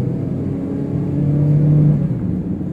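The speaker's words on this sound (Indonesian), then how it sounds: "Kemudian untuk transmisi 5AT nya juga lumayan agak lemot maksudnya." Honda Freed facelift, base trim, with a 5-speed automatic, accelerating from inside the cabin: a steady low engine hum with a rising tone that swells mid-way, then eases slightly, with no talking.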